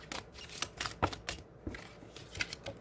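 Tarot cards being shuffled by hand, a run of soft papery riffles and flicks in irregular bursts, close and fairly quiet with no talking.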